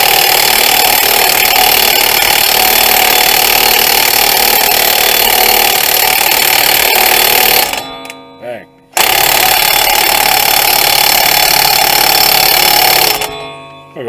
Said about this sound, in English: So we'll pull the axle nut loose next and go after these 3 bolts.